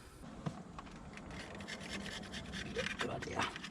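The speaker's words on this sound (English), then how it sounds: "So I'll just see if I've got a razor blade or something that can just scrape that off" A razor blade scrapes old gasket remnants off a metal surface during a water pump replacement on a Holden VE V8, making uneven, close rasping strokes that grow busier toward the end, with faint breathing and brief voices around them.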